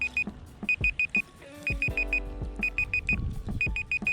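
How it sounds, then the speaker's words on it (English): A cooking timer alarm going off while fish cooks outdoors at a lake, sounding bursts of rapid high-pitched beeps in repeating groups, with a low rumble and some background clatter underneath. "there goes the timer"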